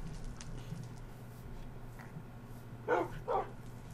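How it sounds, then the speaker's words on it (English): A dog in the Minecraft video game gives two short, clear barks near the end over a low steady background hum. "Which dog is this?"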